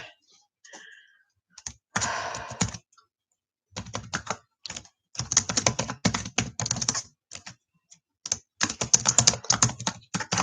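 Typing on a computer keyboard comes through as close, crisp bursts of rapid key clicks separated by short silent pauses, with no voices.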